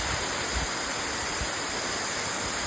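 Falling water from a waterfall at night roars in a constant, full hiss, close and unbroken, with a few faint low thumps beneath and no talking.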